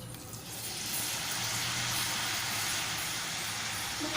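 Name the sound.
french fries frying in oil, second fry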